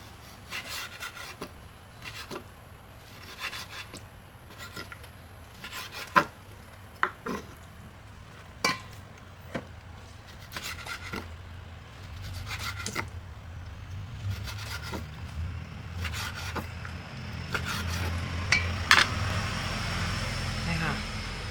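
Repeated sharp knife strokes slice pork liver against a board at an uneven pace, with soft wet rubbing and faint background noise between cuts.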